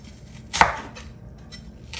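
A single sharp knife chop through half of a medium or large onion being cut into strips for fried tilapia, one close crisp stroke over quiet kitchen background.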